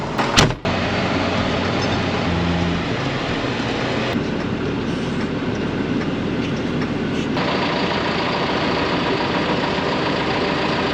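Steady broadband vehicle noise while driving out to collect a wheel track renovator, a continuous close rumble and road hum with a brief knock at the start and no talking.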